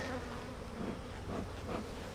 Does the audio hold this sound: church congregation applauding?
no